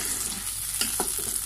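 Tuna fish frying with onions and chillies in a pan gives a loud, steady, close sizzle throughout, with a couple of brief stirring scrapes partway through.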